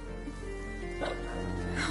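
A hunting dog in A Plague Tale: Innocence gives high whimpers and short yips, a few brief bursts close by over sustained game music and ambience.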